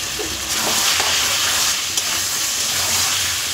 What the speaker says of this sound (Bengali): এটা ধৈর্য ধরে আমি আধা ঘন্টা ধরে কষাচ্ছি।